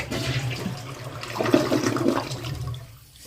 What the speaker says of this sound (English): I just want to do a test to make sure everything flushes properly.